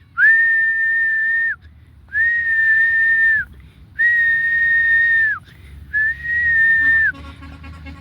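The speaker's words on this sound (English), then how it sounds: "Or I whistle to them." A person whistles to birds outdoors: four long, steady, clear whistled tones, each lasting over a second and separated by short gaps. The whistling is loud and close over a faint background rumble.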